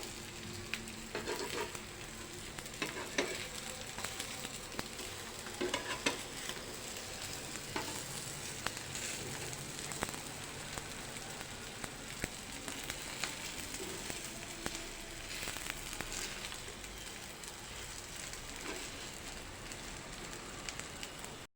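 Mini parathas sizzle and crackle in a frying pan, a continuous close hiss with scattered pops and spatters, no talking.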